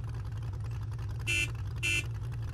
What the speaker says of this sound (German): Wie hört sich denn die Hupe an?